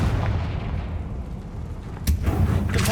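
A Confringo blast spell in Hogwarts Legacy on PS5: a steady, loud rumbling barrage with a sharp, bright burst near the end, followed by sustained crackling roar.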